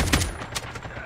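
Gunfire in Call of Duty Mobile Battle Royale: a sharp close shot near the start, then a few fainter bursts spread over about a second against a busy, noisy game mix.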